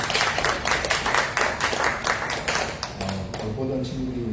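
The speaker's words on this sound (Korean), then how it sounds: "함께 박수 쳐주시면 감사합니다" Congregation members clap together at a Sunday service in a Korean church in Davao, a rhythmic, fairly close patter of hands that tapers off as a voice begins speaking near the end.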